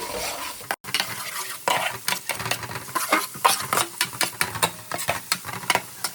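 Thinly sliced onions are stirred in hot oil with a ladle for goat head curry, giving rapid, close scraping strokes over a continuous loud sizzle, with no voices.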